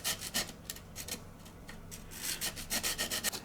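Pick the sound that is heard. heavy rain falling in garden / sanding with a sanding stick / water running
sanding with a sanding stick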